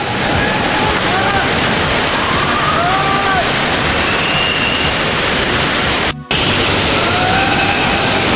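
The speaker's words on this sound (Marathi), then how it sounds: "देवकुंड वॉटरफॉल" Devkund waterfall rushing, a loud, dense, unbroken roar of falling water close by, with faint voices beneath it and a brief dropout near the end.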